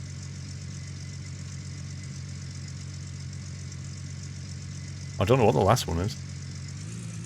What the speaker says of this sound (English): Something wrong with the engine, I think.